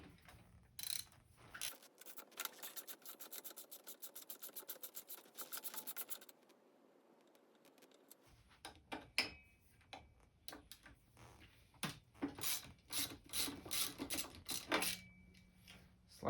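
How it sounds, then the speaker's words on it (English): 6 mm Allen key working a BMX crank bolt loose, quick ratcheting clicks in bursts, then scraping and metallic knocks as the crank is handled, close and fairly quiet. "we can grab our 6 mil Allen and remove the crank"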